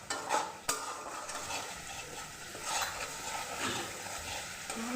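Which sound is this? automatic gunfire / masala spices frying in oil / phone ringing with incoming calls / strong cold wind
masala spices frying in oil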